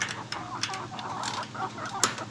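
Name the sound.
chickens clucking while eating ragweed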